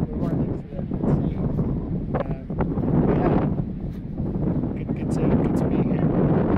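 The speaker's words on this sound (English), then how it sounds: "It's not that warm because it's quite windy." Strong wind blows right next to the sea, a continuous loud rumble buffeting the microphone with gusts rising and falling throughout.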